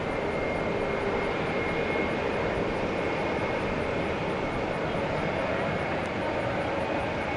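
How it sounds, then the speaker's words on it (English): An Airbus A321 jet at an airport at night gives off a steady, continuous engine roar with a faint high whine, moderately loud and unchanging, with no voices. "Right there is American 624. It's an Airbus A321, the little tiny brother of the A380."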